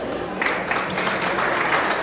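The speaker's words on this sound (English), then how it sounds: "A big round of applause for the Honorable James Poulos, a great MC." Applause from the audience at a Greek community awards ceremony, a steady wash of clapping heard from the crowd, moderately loud and continuous.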